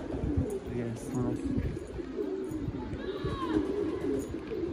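Soft pigeon coos and a few chirps over steady background noise and murmuring voices, with wingbeats or rustling now and then.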